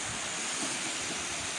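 Steady broadband roar of the 35-metre Hérisson waterfall, a continuous rushing wash of falling water with no pauses, close and fairly loud throughout.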